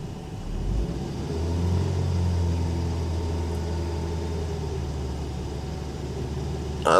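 Engine of a 2003 Nissan Frontier being raised to a steady high idle near 2,500 RPM, a loud continuous rumbling drone that climbs after the first second and holds level, with no talk.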